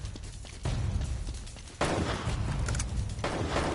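Gunfire in the video game Uncharted: Drake's Fortune, a dense, noisy barrage of rapid shots and impacts that thickens and grows louder partway through, without talk.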